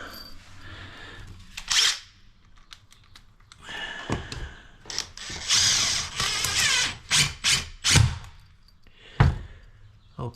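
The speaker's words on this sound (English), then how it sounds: "I'm just gonna screw it down." Power drill driving screws to fasten down a toilet flange on the bathroom floor, with several short whirring bursts of varying length and clicks and knocks between them.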